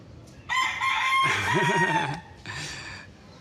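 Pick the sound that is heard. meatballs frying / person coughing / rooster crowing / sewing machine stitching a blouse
rooster crowing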